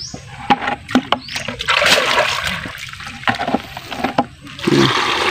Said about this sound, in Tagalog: yung stick, ay lagyan na naman natin ng tubig